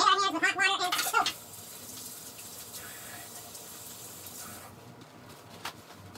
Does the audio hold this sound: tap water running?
yes